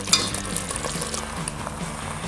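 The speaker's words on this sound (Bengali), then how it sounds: "এখন আমি এটাতে পাস্তাগুলো ঢেলে দেবো" Cooked pasta is tipped into a pan of pesto sauce for a chicken pesto pasta, giving a steady soft sizzle and wet stirring rustle close by, with no talking.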